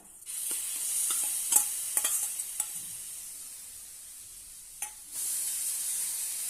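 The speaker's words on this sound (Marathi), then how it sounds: "तावा गरम करायला ठेवलेला आहे त्यावर आपण ही कुटलेली चटणी घालूया" Pounded raw mango and onion chutney hitting a hot tawa, breaking into a steady bright sizzle with scattered stirring clicks and scrapes, then a louder hiss that rises and holds near the end.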